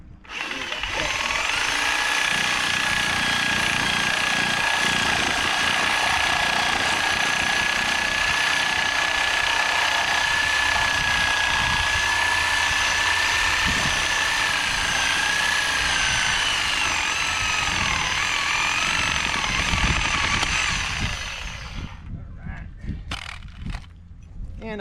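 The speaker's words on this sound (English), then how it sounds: "And I can use the Sawzall because I got power to the job." A Sawzall reciprocating saw cuts through a drain elbow on a home build job site, buzzing loud and steady for about twenty seconds before stopping, followed by a few clunks.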